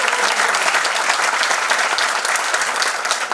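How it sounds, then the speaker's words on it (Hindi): Audience at a business system meeting applauds steadily for participants, a dense continuous roomful of clapping that stays loud and even throughout, with no talk over it. "ताली बजाए इन लोगों के लिए।"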